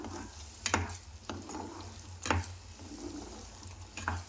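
Spiced masala paste frying in oil in a pan for a lotus seed (phool makhana) curry, with soft crackling sizzle and a few sharp stirring scrapes at intervals, close and moderately quiet.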